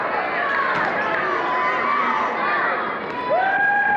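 A high school basketball crowd in a gym cheers and shouts in a sustained roar, with excited voices rising over the noise and a swell near the end.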